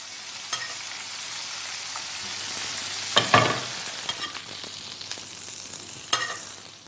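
Meatballs frying in a tight-fitting pan give a steady, close sizzle, with a few sharper crackles and a louder burst of spitting as pieces are lifted and shifted.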